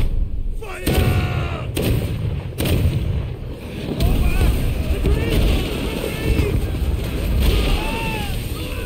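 Cannon fire in the samurai-era video game Rise of the Ronin, heavy booming blasts repeating through the clip over a constant roar of battle, wind and water, with a voice heard under the barrage.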